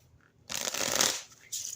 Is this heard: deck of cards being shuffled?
yes